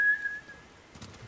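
A single sustained whistle to call a horse in Ghost of Tsushima, fairly close and clear, fading out and followed by brief soft rustling and footsteps.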